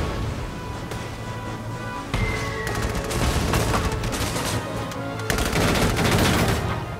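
Gunshots in the tactical video game Valkyria Chronicles 4, a dense run of sharp cracks and bursts over a steady battlefield din, growing louder after about two seconds with no voices.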